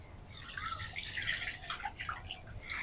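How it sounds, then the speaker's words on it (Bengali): Water pours into a wok (kadai) set on a lit stove while raw mango murabba is being made. A steady, moderate trickling and splashing runs throughout with small drip-like accents, and no one speaks. "এবার কড়াই দিয়ে দিচ্ছি পানি।"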